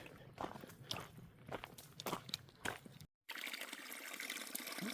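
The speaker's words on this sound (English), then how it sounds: "That's a nice water source." Water trickles steadily from a stream water source along the Appalachian Trail in North Carolina, a continuous close hiss and burble after a short break, with faint crunching earlier.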